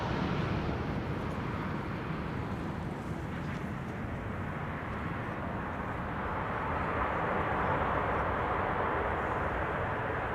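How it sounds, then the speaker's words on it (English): Transavia passenger jet landing at Schiphol on arrival from Faro, a steady broad jet roar sustained throughout, fairly distant and even with no talk. "just now landed here was Transavia flight 5358 arriving from Faro"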